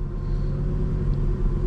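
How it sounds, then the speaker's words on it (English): Steady low engine drone inside the cabin of a 2006 Lamborghini Gallardo running at idle, a continuous, fairly loud rumble with no talk. "It's actually pretty loud in here once the car is going."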